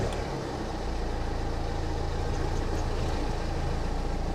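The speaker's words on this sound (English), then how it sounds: "now all we're going to do is start the car" A car engine runs at a steady, close idle after a home oil change, giving a smooth, continuous low rumble with no talking.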